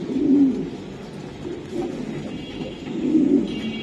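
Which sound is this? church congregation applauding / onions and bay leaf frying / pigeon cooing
pigeon cooing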